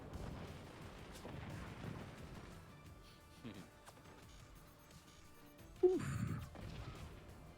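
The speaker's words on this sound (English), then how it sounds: "getting a few of those mortars down" Mortars fire in the strategy game Forts as a string of low, muffled thumps under a steady battle din, topped by one sharp, louder blast close to the end.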